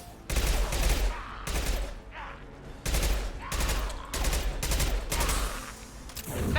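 Heavy weapon fire in the video game Mass Effect 2: repeated loud, booming bursts of gunfire in quick volleys, with brief gaps between blasts and a faint voice in the mix.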